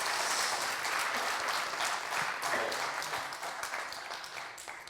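Sustained applause from a seminar audience after a talk, dense and steady throughout and tapering slightly toward the end, with no voices above it.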